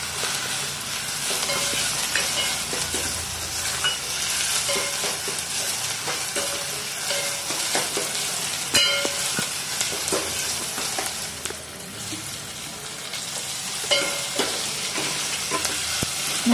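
Ginger garlic paste fries in a pan for a Tamil mushroom gravy, making a continuous loud sizzle while a utensil stirs and scrapes it repeatedly, with no voices.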